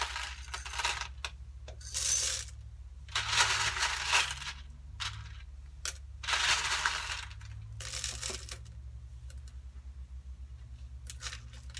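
Beads poured in several separate bursts of bright rattling and clattering, each pour a second or so long with short pauses between, close and fairly loud.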